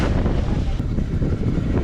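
Loud, steady wind roaring across the microphone aboard a boat near Delft Island, with rushing water and wave noise underneath, continuous and close.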